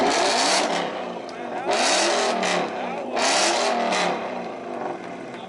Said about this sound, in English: The Mustang sounds louder.